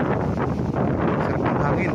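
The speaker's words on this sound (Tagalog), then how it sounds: "Sarap ng hangin." Strong wind buffets the microphone on a hillside farm lot in Majayjay, Laguna, a loud continuous roaring rush with no pauses.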